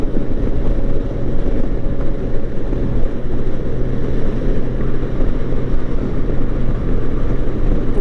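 Strong coastal wind at Mustang Island roars and buffets the microphone in a constant, loud low rumble with no letup.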